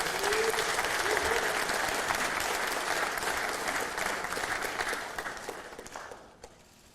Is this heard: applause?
yes